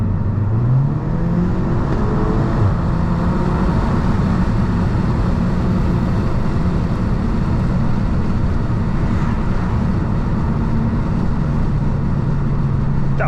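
Car engine on a dyno pull, a loud continuous roar building and holding steadily throughout with no pauses and no voices.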